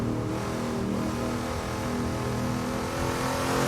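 A pack of cars at varying speeds circulates on the Bathurst mountain circuit, the engines revving loudly and continuously at close range.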